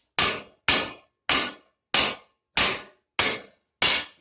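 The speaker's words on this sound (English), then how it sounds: "Let's see if we can just knock the rest of this stuff off." A hammer strikes scrap brass from HVAC equipment to knock attached parts off. Seven sharp, loud metallic blows land close by at an even rhythm of roughly one every half second, each ringing briefly before silence.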